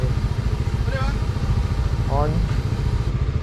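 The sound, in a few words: Zontes 703F motorcycle engine running after starting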